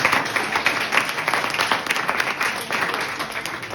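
Audience applause, dense continuous clapping from a large crowd, loud and steady throughout with no talking over it.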